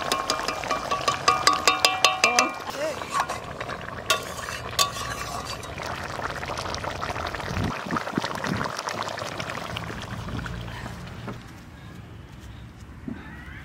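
Stingray fish curry cooks in a pan as garam masala powder is added, with a spoon clattering and scraping while stirring, then a soft, steady sizzle of frying.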